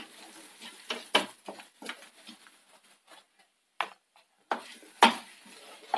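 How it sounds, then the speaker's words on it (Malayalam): Egg filling being mixed for stuffed egg chapati, with a utensil scraping and tapping against a bowl in short irregular bursts separated by brief pauses, moderately close and without any talk. "എല്ലാം കൂടി ഒന്ന് മിക്സ് ചെയ്യണം"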